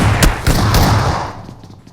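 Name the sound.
gunfire in a shooting video game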